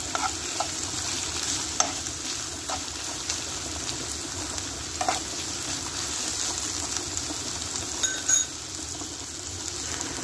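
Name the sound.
stirring vegetable spaghetti sauce with a spoon in pan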